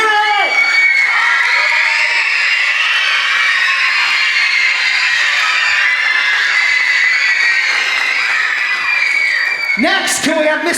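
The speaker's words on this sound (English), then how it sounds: "can we have Mrs. Lucchesi come up in a big round of applause for Miss Lucchesi?" A loud crowd of children cheers, shouts and whoops at a grade 4 school theatre festival, a sustained dense roar of high voices with a burst of yells near the end.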